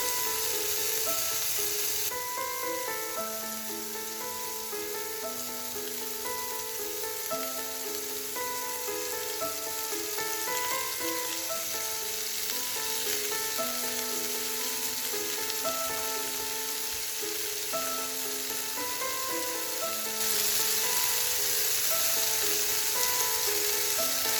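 Paneer tikka frying in a pan, a steady soft sizzle running continuously beneath background music, with no talking.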